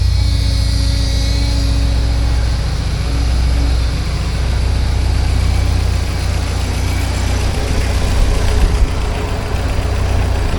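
A 1979 Porsche 924 engine idles steadily up close, a low continuous rumble with a faint rattle, no voices.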